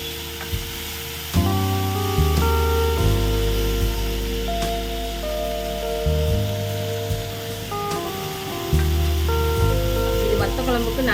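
Shallots, garlic and dried chillies fry in sesame oil for a Tamil vatha kuzhambu, a steady close sizzle broken by stirring clatters and spoon taps against the pan, with no talking.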